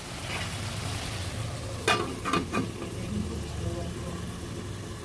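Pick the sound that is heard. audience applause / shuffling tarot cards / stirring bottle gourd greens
stirring bottle gourd greens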